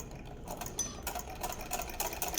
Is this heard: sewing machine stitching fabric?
yes